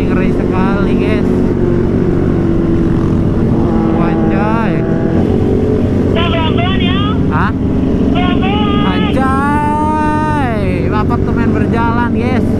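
Group ride of big motorcycles on the road in Karawang, Indonesia, with steady engine drone and rising, falling revs throughout, plus wind buffeting; riders talk over the engines.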